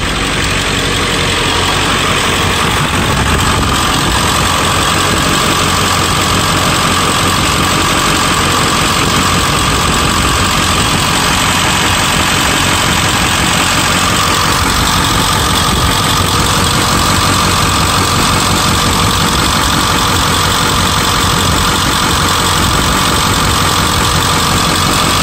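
A 2000 Ford F-350 Lariat with the 7.3-liter Power Stroke turbo V8 diesel, 223,000 miles, idles loudly and close up during an oil-cap blow-by test, a continuous rough clattering rumble with no talk.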